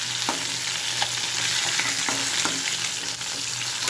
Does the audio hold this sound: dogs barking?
no